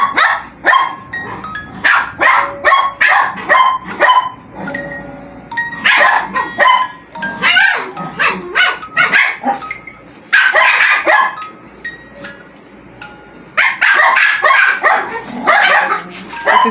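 Several dogs bark loudly and excitedly indoors near a Christmas fireplace, rapid bursts of yips and barks with short pauses, close to the listener, with no talking over them.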